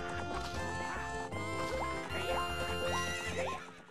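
A horse neighs and whinnies in the video game Zelda Ocarina of Time, with repeated rising calls heard over continuous loud game music.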